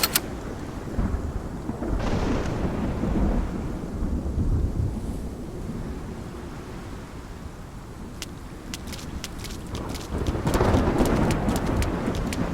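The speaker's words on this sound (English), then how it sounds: "It's just the rain." Steady rain hisses with rolling rumbles of thunder in the video game Love and Deepspace, swelling loud near the start and again toward the end, with no voices.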